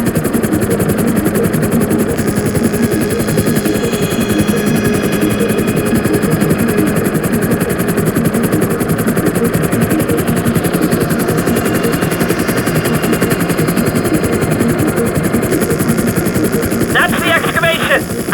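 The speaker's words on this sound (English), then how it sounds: "I need you to hold the chopper above it while I take a look." Helicopter rotor and engine drone hovering steadily in Grand Theft Auto V, loud and continuous throughout, with game dialogue and a brief higher burst near the end.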